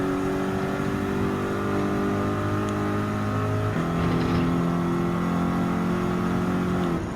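A Mazda race car engine in Gran Turismo 7 holds a steady high drone, then shifts gear partway through and keeps pulling, loud and continuous with no talking.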